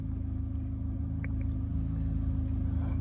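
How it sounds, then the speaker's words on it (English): A Corvette C8 Z06 engine drones steadily inside a tunnel, a dense low rumble with layered harmonics holding constant and loud throughout, no voices. "this car in the tunnels sounds amazing"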